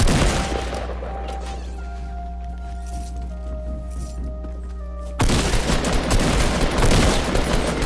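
Gunfire rattles in Fortnite as dense, continuous bursts over a low steady hum, turning noticeably louder and harsher for the last few seconds.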